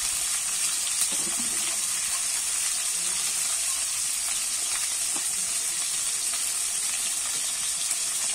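Potatoes and cauliflower frying in a pan until browned, giving a steady, bright sizzle that holds level throughout with a few soft clicks, close and unbroken, no one talking.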